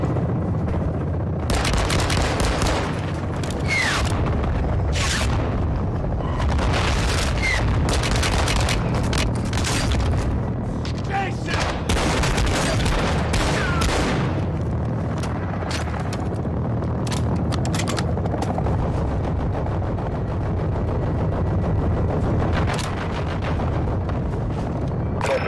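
An artillery strike in the Call of Duty Warzone battle royale, with loud repeated booming explosions and bursts of rapid gunfire spread across a sustained barrage, dense and close, with no speech heard.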